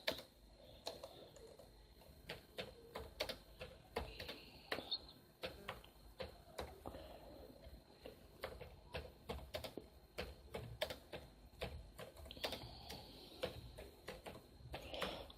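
Keystrokes on a keyboard while note text is typed into a simple notepad app on Android, coming as irregular bursts of light ticking clicks throughout, fairly quiet and close, with no talking.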